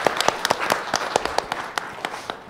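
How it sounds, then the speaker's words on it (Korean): Applause from a seated audience at a public talk with a lawyer and a journalist, moderate in size, with individual claps standing out clearly against a softer clapping bed that tapers slightly toward the end. "여기 계신 분들에게 박수를 한번 좀 부탁드리고 싶습니다"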